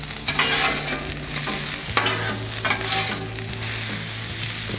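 Onions tossed with a seasoning mix fry on a Blackstone griddle, giving a steady loud sizzle broken by scraping stirs and spatula clicks, close and with no talking.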